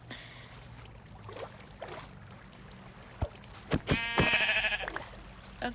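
A sheep in Minecraft gives a short bleat near the end, faint against a low ambient background with a few soft clicks and thumps beforehand.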